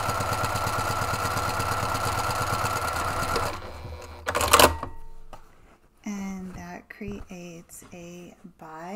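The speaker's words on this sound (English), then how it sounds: "stitch down one of the long edges using 5/8 of an inch seam" Sewing machine stitching a long fabric seam at a 5/8-inch allowance, running steadily and loud for about three and a half seconds, then stopping with a brief clatter before a person starts talking.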